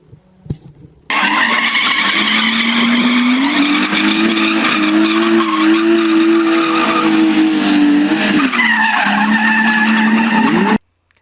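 A BMW E46 330i drifting, its tires squealing in a loud, sustained screech that holds steady for about ten seconds with engine roar beneath, then cuts off abruptly.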